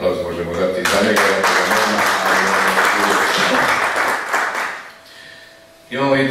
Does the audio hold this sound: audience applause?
yes